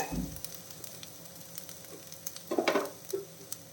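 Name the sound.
coconut poha upma stirred while cooking in pan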